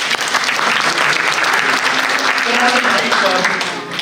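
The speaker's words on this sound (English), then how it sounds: "Can we give Dr. Taneja a big round of applause?" Loud, full applause from an awards ceremony audience for Dr. Taneja, continuous clapping with a voice speaking faintly underneath toward the latter half.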